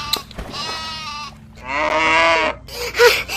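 Goats and other farm livestock bleat in a series of loud, drawn-out calls, several animals overlapping at close range with short pauses between cries.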